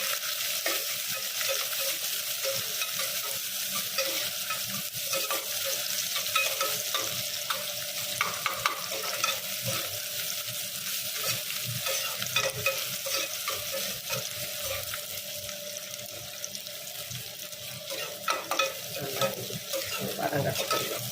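Sliced small onion with cardamom and a piece of cinnamon sautéing in a pan for chicken dum biryani, a steady close sizzle with frequent stirring scrapes running throughout.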